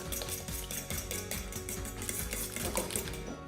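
Wet muffin batter with vanilla extract mixed briskly in a bowl, a continuous busy clatter of utensil scraping and tapping with a steady rhythm, close and moderately loud.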